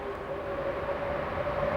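A NASCAR stock car, the number 24, roars past at Daytona International Speedway during a 2004 Twin 125 qualifying race, a steady loud engine drone with a sustained pitched whine and no talk.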